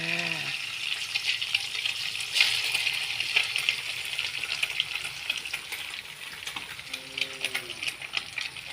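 Egg poured into hot oil and frying with a steady broadband sizzle for the whole stretch, with a stirring scrape partway through and a few light clicks from the pan. No voices are heard.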